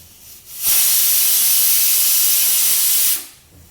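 A loud, steady burst of hissing steam lasting a few seconds, starting and stopping abruptly, from a pressure cooker cooking arhar dal.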